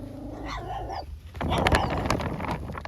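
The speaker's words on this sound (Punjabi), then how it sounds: "ਇੱਧਰ ਕਤੂਰੇ ਪਤਾ ਨਹੀਂ ਕਿਵੇਂ ਬੋਲਾ ਬੋਲੀ ਜੀ ਕਰੀ ਜਾਂਦੇ ਆ" Puppies bark and yelp at a farmhouse with buffaloes nearby, a few sharp close yaps and whimpers breaking out over low background noise.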